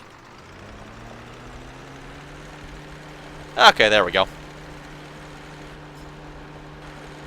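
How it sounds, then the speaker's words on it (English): A tractor engine in Farming Simulator 15 idles with a steady low hum and a faint pinging tone, while someone speaks briefly over it midway. "if you listen to this tractor, it's got like kind of a funny pinging sound on the engine"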